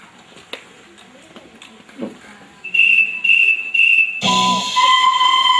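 Piercing, steady whistle tones sound in short repeated blasts at a school spring program, then a louder, shrill multi-note whistle after a quieter stretch with some talking.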